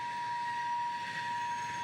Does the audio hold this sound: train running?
yes